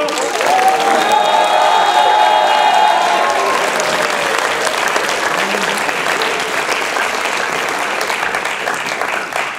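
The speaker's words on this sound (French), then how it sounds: "Vous pouvez également vous applaudir" A concert audience at the INSA Rouen Musique-Etudes section's May 2014 show gives itself a loud, dense round of applause that holds steady for the whole stretch, with a few thin whistle-like tones early on.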